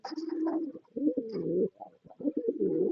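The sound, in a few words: pigeons cooing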